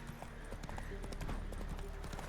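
Horse hooves clop at a steady trot in the Witcher 3 video game, a quiet, rapid rhythmic patter over a faint background bed.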